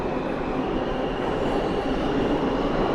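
A New York subway train arriving at a station rumbles and roars steadily with a dense rolling wheel noise and faint metallic squeal, loud and continuous throughout.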